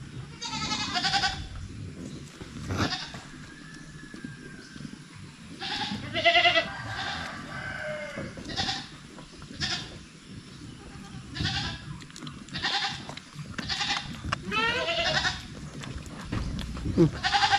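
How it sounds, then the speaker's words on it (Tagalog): Several goats bleating on a small farm, repeated loud wavering calls spaced every second or two over soft background rustle, some close and some farther off. "Kambing naman yung pakainin."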